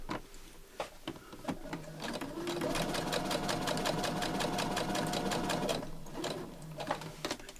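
A sewing machine stitches a short seam on a patchwork tablet pouch, starting with a few needle taps before a steady rapid whirr that stops near the end, alone and close.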